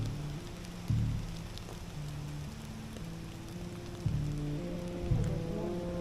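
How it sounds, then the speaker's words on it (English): Heavy rain pours steadily onto the tree canopy overhead in woodland, a dense, constant hiss with a few louder gusts of downpour and a low hum underneath. "It showed on the radar we wouldn't have any rain at all. And then here we are, we're getting poured on"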